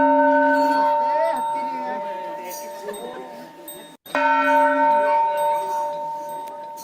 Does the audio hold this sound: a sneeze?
no